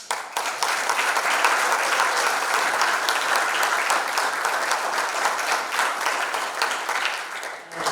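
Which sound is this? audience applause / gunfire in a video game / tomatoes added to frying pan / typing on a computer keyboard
audience applause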